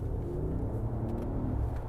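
A 2025 Mercedes G580 electric SUV accelerating on twisty roads, giving off a steady, engine-like synthetic rumble that stays loud and continuous from inside the cabin.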